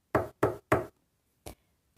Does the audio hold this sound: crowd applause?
no